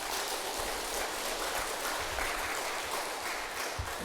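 Applause from a temple audience during a Buddhist service, a continuous hiss of many hands clapping at moderate distance, steady throughout with no voices over it.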